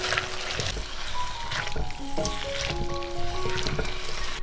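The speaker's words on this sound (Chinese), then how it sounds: "青红椒倒进来，翻拌一下就可以出锅" Shrimp and pineapple in a thickened tomato sauce sizzle in a wok as green and red peppers are tossed in, a close, steady frying hiss with light clinks of stirring.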